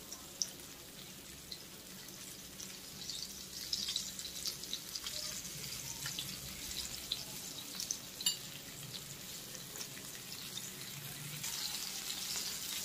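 Fish fries in hot oil in a pan, a continuous close crackling sizzle with scattered pops and spits running throughout, steady and fairly quiet, no one speaking.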